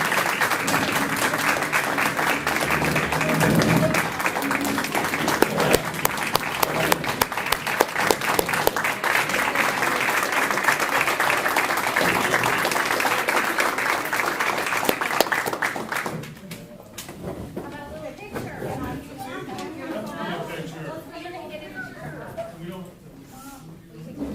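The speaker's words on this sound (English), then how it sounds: "Let's give Isabella a large round of applause" Audience at a school board of education meeting applauding a student state champion, a long steady round of close clapping that stops abruptly, leaving quieter room chatter and voices.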